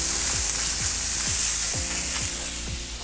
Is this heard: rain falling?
no